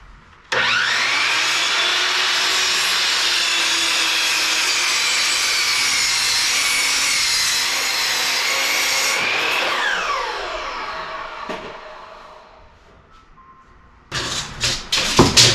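A power sander working on wood for a side gate, a loud steady whirring grind that holds for several seconds, then winds down, followed by a few close knocks and handling clatters.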